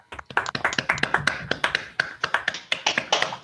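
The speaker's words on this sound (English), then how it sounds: "let's give Kiri a warm round of applause, a virtual round of applause" Scattered hand claps from a few people on a video call, uneven taps and claps in a loose, sparse rhythm for a few seconds, close and fairly loud with no talking.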